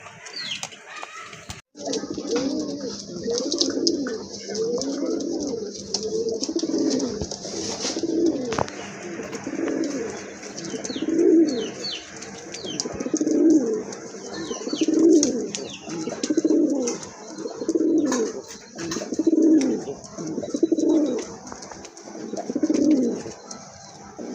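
Pigeons at a pigeon farm coo steadily and close up, low rhythmic coos repeating about every two seconds for the whole stretch, with no talking.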